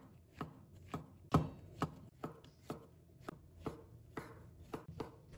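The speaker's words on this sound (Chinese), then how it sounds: "把它切成薄片。" Knife slicing shiitake mushrooms into thin pieces on a cutting board, with about a dozen crisp, close chops at an uneven, steady pace.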